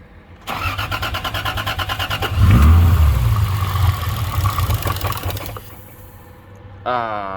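A drift car's Toyota 2JZ engine cranks with a rapid, rhythmic starter chatter, then catches and runs roughly at a loud, close idle before cutting out; a brief whine follows at the very end.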